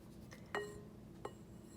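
A glass jar of homemade elixir being stirred, giving two quiet, bright clinks about three-quarters of a second apart over a faint background hush.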